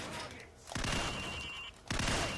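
Gunfire at a target on the obstacle course of Call of Duty 4: Modern Warfare, two loud bursts of rapid shots separated by a brief pause, with faint game ambience between them.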